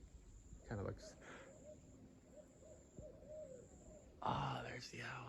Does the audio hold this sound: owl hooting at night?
yes